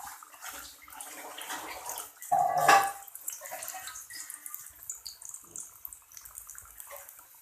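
A paratha goes into ghee heated over a medium flame, bringing a soft hiss and bubbling sizzle that swells briefly, then settles into faint crackling.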